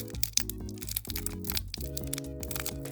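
Plastic toy packaging crinkles, cracks and tears as it is pried open by hand without scissors, close and fairly quiet, with some steady tonal background sound underneath.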